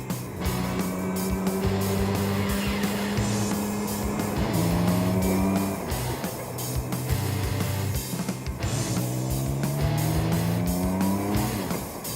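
Campagna T-Rex 16S P three-wheeled vehicle driving hard, its engine revving up through gears in repeated climbing whines with brief tire squeal, loud and close throughout.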